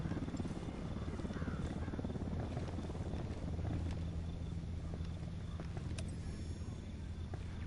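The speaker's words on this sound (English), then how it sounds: "Chopper, hit the dirt." Helicopter in the video game Ghost Recon Wildlands, a steady low rotor drone and engine hum holding constant throughout, fairly faint and even, with no talk over it.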